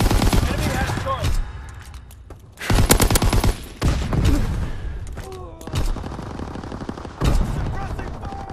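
Bursts of suppressing gunfire from rifles and machine guns crackle in a Call of Duty WWII match, loud volleys separated by short lulls, while game announcer voices call out in the background.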